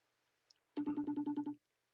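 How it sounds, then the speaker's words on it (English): A single burst of electronic phone ringing, a rapid warbling trill lasting under a second, fairly quiet against near silence. "It's ringing."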